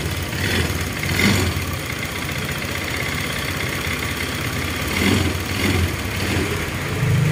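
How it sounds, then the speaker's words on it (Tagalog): A Honda Click scooter engine idles close to the mic after a cold start. The engine is suspected of an internal fault. It gives a steady running drone with slight surges and no voices. "Okay, start muna natin mga sir. Yan, umaanda na po yung makina."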